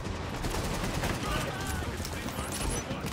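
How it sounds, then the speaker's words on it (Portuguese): Gunfight in the video game The Division: dense, continuous bursts of rapid gunfire and crackling shots blend into a busy, steady wall of combat noise for the whole stretch. "continua aqui o tiroteio"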